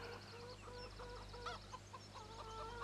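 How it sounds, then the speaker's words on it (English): Chickens in Farming Simulator 17 cluck in a quiet, repeated burst of game-audio calls over a low constant background hum, with no talking. "Ooh, looks like our chickens are making a break for freedom."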